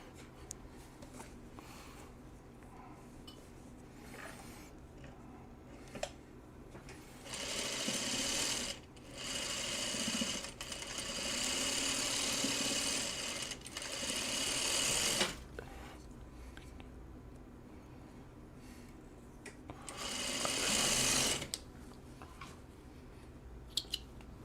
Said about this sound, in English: So I will sew these two.